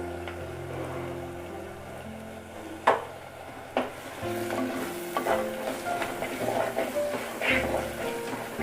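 Onions sautéing in hot oil with turmeric, salt and asafoetida for a spicy Tamil bean nut curry, a steady close sizzle with a spoon stirring and two sharp utensil knocks partway through, no talking.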